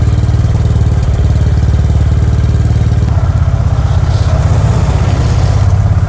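A cold-started Honda CB350RS motorcycle engine runs steadily at idle, a loud, close, continuous low thrumming pulse with a slight shift in tone midway, and no talk over it.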